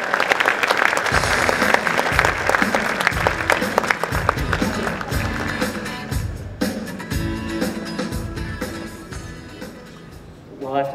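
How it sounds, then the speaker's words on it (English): Loud, sustained applause from a tech-conference audience welcoming the HootSuite CEO to the stage, a dense wash of clapping with some voices mixed in, continuing steadily for about eleven seconds before thinning out near the end. "So please give Ryan Holmes of HootSuite a warm welcome for the hand clap."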